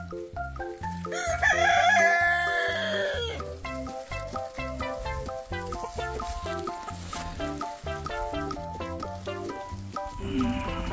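A Cheonggye chicken crows once from a backyard coop beside a mock-strawberry patch. The long, wavering crow comes early and sits over loud, continuous background music, with no clear talking.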